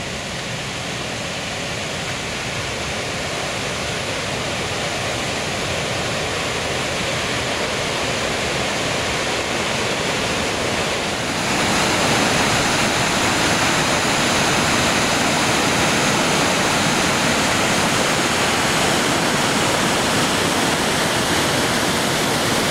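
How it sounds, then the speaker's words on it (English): Haruru Falls in New Zealand roars as a steady, dense rush of falling water, close and unbroken throughout, growing slightly louder partway through. "we stopped for a few minutes to look at Haruru Falls"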